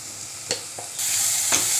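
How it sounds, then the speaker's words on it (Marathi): Egg bhurji masala with chilli is stirred in a kadhai, a soft sizzle broken by a few scraping strokes before the frying hiss swells louder and steadier toward the end. "पुन्हा एकदा हे सर्व मिश्रण एकत्र करून कढईमध्ये परतवलं जाईल."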